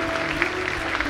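A church congregation applauding during a family service, brief, even wash of many hands clapping together, moderately loud and continuous.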